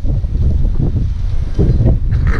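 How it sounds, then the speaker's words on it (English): Strong outdoor wind buffets the microphone on a blustery day, gusting in loud low rumbles that swell and fade in uneven bursts, with no voices over it. "Guys, I'm sorry about the wind."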